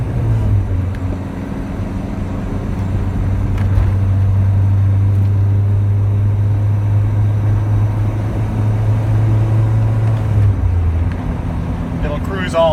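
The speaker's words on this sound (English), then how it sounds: "It'll cruise all day off boost, you know, just running around town like it's just a stock car." A Callaway Rabbit's engine cruises gently off boost around town, a steady low hum that carries on for several seconds at moderate volume inside the car, with a voice speaking over it.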